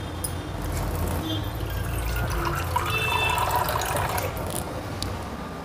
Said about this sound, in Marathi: मी पाणी टाकून घेते जरा।